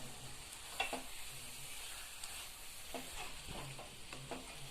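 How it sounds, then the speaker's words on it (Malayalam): Masala being stirred into Kerala-style spicy beef roast in a pan, with steady sizzling frying under repeated scraping stir strokes, close and moderately loud, no voices. "അങ്ങനെ ഈ മസാലകളെല്ലാം ബീഫിൽ പിടിക്കുന്ന രീതിയിൽ ഇളക്കി ചേർക്കുക"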